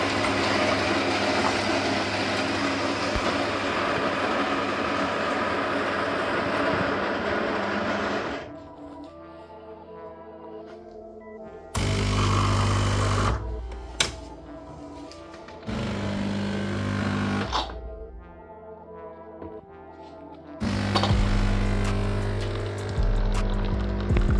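A Saeco Exprelia espresso machine grinds loudly in harsh bursts, switching to a lower, steady mechanical hum as it brews, with no voices.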